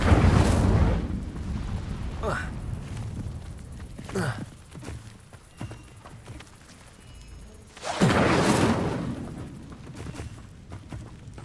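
Fiery spell blasts from the Incendio charm in Hogwarts Legacy, heard as two loud whooshing bursts, one at the start and another partway through, with softer magical swishes between.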